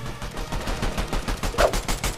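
Gunfire in a video game mission, a busy stream of rapid shots and bursts running throughout at a steady level with a sharper crack near the end, with no talking over it.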